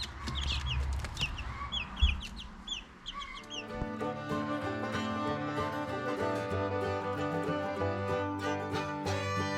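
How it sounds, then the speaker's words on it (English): Hens cluck and squawk close by for the first few seconds. A steady musical backing then takes over and carries through to the end. "If you want friendly hens like this,"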